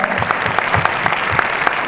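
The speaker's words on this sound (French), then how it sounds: "On les applaudit, Samuel et Victor Hadida" Audience applause at the Paris premiere of The Wolf of Wall Street, honoring Samuel and Victor Hadida; dense, steady clapping from a large crowd throughout.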